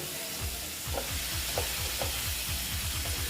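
Egg curry masala sautés in a pan with a splash of water, giving a steady close sizzle under quick rhythmic spatula scrapes that repeat throughout, with no voices.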